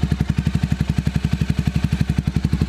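A 2021 Italika Vort-X 300R motorcycle engine idles close by with a steady, even rapid pulsing throb, running alone without talk.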